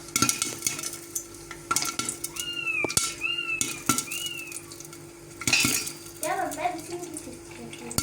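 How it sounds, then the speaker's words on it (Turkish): A cat gives three or four short meows in a kitchen over clinking dishes and cutlery, with a voice briefly heard toward the end. "Demin bir kedi vardı burada."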